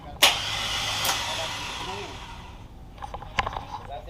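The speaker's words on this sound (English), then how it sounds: "we're getting ready to try to fire this motor up" A V8 engine swapped into a Datsun 720 fires for the first time, running without an oil cap: sharp cranking bursts and a rough, noisy catch, then uneven sputters.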